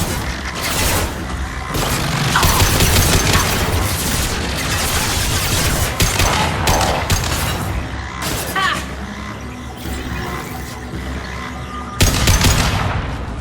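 Sustained combat gunfire in a Mass Effect 2 battle, rapid automatic bursts and booming impacts layered densely and loudly, nearly unbroken with a sharp burst near the end.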